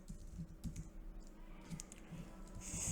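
Rapid, uneven keystrokes on a computer keyboard while code is typed, close and fairly quiet, with soft clicks running steadily through the whole stretch and no voices.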